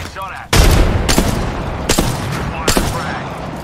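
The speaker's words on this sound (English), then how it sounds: "Shots fired, and they're hitting me" Gunfire erupts in a battle royale video game: a sudden loud, close burst of rapid shots, followed by several more sharp cracks spaced about a second apart.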